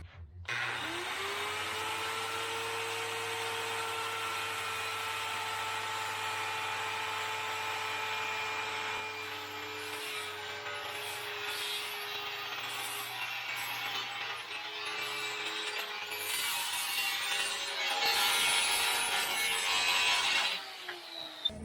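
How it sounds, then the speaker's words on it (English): A handheld circular saw runs at a steady high whine while cutting wood for a bed and storage platform, with the pitch dropping and roughening as the blade bites into the board near the end, loud and close with no voices. "Cutting this with a skill saw because I don't really know how else to do it."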